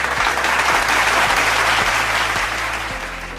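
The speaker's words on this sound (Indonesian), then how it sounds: "Boleh aplaus untuk Bapak Ibu semuanya." An audience claps in sustained, dense applause at the close of a panel discussion, loud and steady throughout, tapering slightly at the end.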